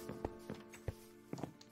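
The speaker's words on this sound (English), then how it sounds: "I found another horse." A horse in a Minecraft survival game gives a few soft, evenly spaced hoof clops, faint and close, with no talking over them.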